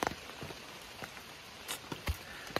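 Rain falling on a tent along the Appalachian Trail, soft steady patter with a few sharper drops striking the fabric nearby, fairly quiet and without talk.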